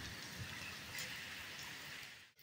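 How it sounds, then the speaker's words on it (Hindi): Dense, steady rain hissing and pattering continuously, loud and close, with no voices. "इतनी तेज बारिश"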